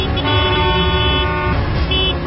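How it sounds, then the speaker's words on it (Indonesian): A car horn blares in a long, steady blast, pausing briefly and then sounding again, loud and close amid road traffic noise. "Aku juga mendengar suara klakson mobil dari arah belakang mobilku."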